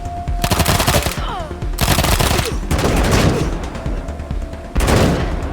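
A turret fires in the video game Wasteland 3, loud rapid automatic bursts in four long volleys with brief pauses between them.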